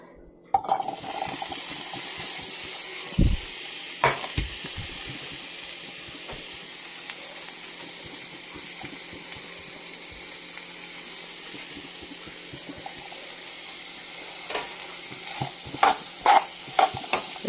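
Food frying in hot oil and being stirred in a pan, with a steady sizzling hiss broken by scattered clinks and scrapes of the spoon against the pan, loudest near the start and end, with no voices.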